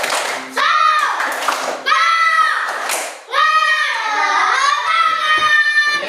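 A classroom of children claps out a rhythmic cheer in bursts, sharp and close, with pauses between phrases and children's voices chanting along.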